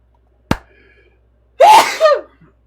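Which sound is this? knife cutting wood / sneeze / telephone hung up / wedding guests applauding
sneeze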